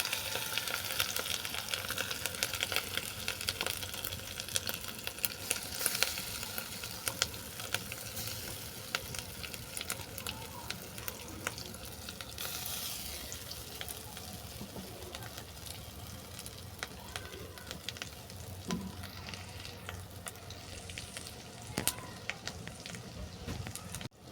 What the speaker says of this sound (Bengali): আদাটা হালকা করে ভেজে নিলাম এর সঙ্গে তুলে দিচ্ছি শাক আর ডাল বাটা